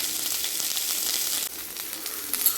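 Onions sautéing in a pan for a coriander mint chutney, a bright continuous sizzle with soft stirring scrapes, close and steady, with no voices.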